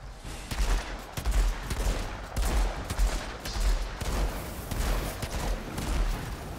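Repeated gunfire in Outriders endgame combat with a Technomancer, loud, rapid volleys of shots with heavy low thumps, continuing in clustered bursts throughout with little pause.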